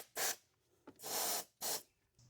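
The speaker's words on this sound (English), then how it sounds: "Compressed air to clean the area and bolt openings." Compressed air blows in three short hissing bursts to clean a DOHC engine block and its bolt openings during a timing belt change, close and loud with brief pauses between.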